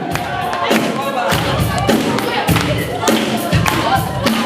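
Parents and teachers applaud graduates at a gymnasium graduation ceremony in Stryi, a crowd's clapping and thumping steady and loud throughout, with voices mixed in.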